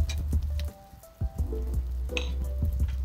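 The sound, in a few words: onions sizzling in a pan with garlic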